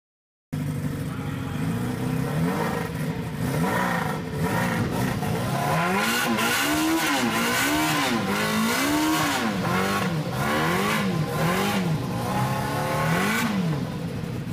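Quad bikes and ATVs at the Hamburg Motorrad Tage 2016 motorcycle show, engines loudly and repeatedly revving up and down in rising and falling waves over a busy crowd background.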